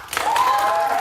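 Studio audience on a daytime talk show clapping briefly, a steady broadband wash of applause with a faint tonal whistle running through it.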